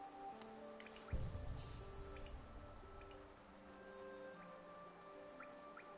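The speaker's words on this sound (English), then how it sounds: "I so love the sound of rain upon glass." Rain patters softly on glass in the rain-soaked City of Tears area of the game Hollow Knight, faint scattered drips under quiet ambient music, with one dull low thump early on.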